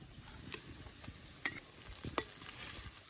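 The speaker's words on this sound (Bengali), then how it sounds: "দেখুন বড়াগুলো কি ভাবে ভাজা হচ্ছে" Jhanjhani flower fritters fry in oil while being turned over, a quiet, steady sizzle broken by a few sharp clinks and taps from the utensil.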